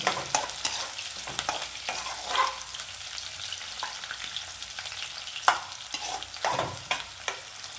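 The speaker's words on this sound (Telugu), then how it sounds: "మనము ఉల్లిగడ్డలు పచ్చిమిర్చి రెండు వేసుకొని వీటిని మనం వేగనిద్దాం." Onions and green chillies fry in a hot pan with a steady crackling sizzle, broken by brief scraping stirs and clatters of a spoon against the metal. No one speaks.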